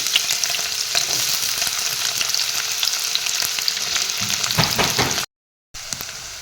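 Onions fry in hot oil in a wok for a chicken curry, a loud, steady close sizzle with crackles and scraping stirs, briefly cutting out near the end before resuming.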